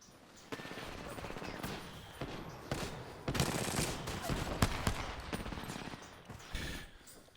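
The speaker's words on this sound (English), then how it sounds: "They're shooting at me." Rapid bursts of automatic gunfire in the battle-royale shooter Apex Legends, loud and close, with repeated volleys and sharp single shots packed densely over several seconds.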